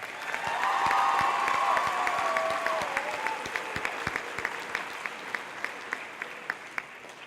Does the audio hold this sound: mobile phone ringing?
no